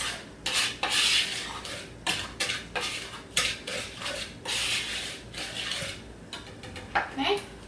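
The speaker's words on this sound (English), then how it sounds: "We just want to mix it all together, as these are our dry ingredients." Dry muffin ingredients with bran are stirred in a bowl, giving repeated scraping, rasping strokes and light clinks of utensil against the bowl in an uneven rhythm, close and fairly loud.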